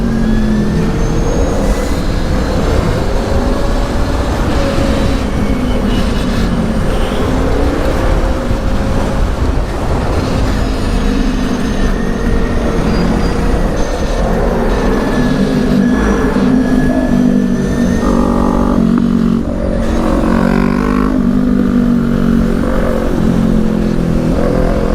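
Electric Sur Ron motorcycle accelerating hard in boost mode through city streets, a steady loud whine rising and shifting in pitch over a continuous roar of road and wind noise, with no talk.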